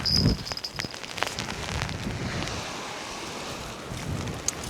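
Heavy rain and gusting wind buffet an open beach at Fleetwood during a fishing competition, a constant roaring wash of surf and wind noise with occasional thumps and patters close to the microphone and no voices.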